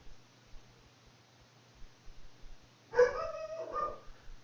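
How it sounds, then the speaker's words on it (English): A dog barks from somewhere off in the house, a short burst of a couple of rough, voiced yelps breaking an otherwise quiet, faintly hissing room. "There goes the dog."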